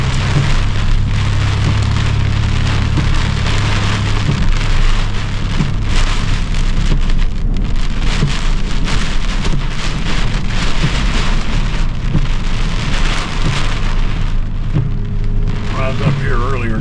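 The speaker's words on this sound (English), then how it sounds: "And it's non-stop rain." Heavy, unbroken rain pours down during Hurricane Ian, a loud, steady roar of water hitting surfaces nearby that continues without pause for the whole stretch, with no one talking.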